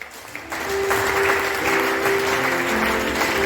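A church congregation applauding after a reverend's sermon, a sustained crowd of clapping that swells in and holds steady, with a held musical tone or voice sounding faintly underneath.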